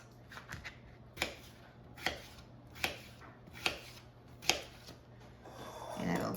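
A knife chops through skin-on potatoes on a cutting board, five crisp evenly spaced cuts close by, followed by a softer scraping of the cubes at the end.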